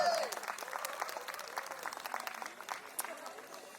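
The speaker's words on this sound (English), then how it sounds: "Can we have a huge round of applause for the bride and the groom?" Wedding guests applaud the bride and groom at a traditional Indian wedding celebration, a steady wash of many hands clapping at moderate distance that carries on throughout and slowly eases off.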